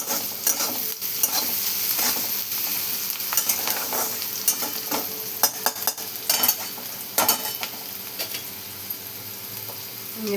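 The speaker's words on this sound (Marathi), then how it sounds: "आणि छान असं मस्त परतून घेणार आपण सगळं कांदा." Chopped onions sautéed with salt in a pan, a continuous close sizzle with frequent scraping stirs and sharp spatula taps against the metal, no voices present.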